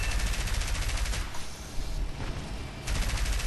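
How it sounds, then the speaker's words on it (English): Gunfire aimed at the player's aircraft in War Thunder: rapid, continuous machine-gun bursts with a brief lull in the middle before the firing resumes. "Being shot at."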